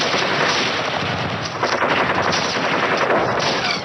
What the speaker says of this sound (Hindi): लांस नायक गोस्वामी आगे बढ़ते बढ़ते एक 30 फुट ऊंचे पत्थर के पीछे आतंकवादियों को स्पॉट करते हैं और अपनी राइफल से तुरंत फायरिंग ओपन कर देते हैं